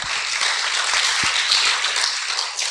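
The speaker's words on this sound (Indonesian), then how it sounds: "Oke, tepuk tangan untuk Diva" An audience at a religious talk gives a lively round of applause, dense and steady, with a few sharper individual claps standing out near the microphone.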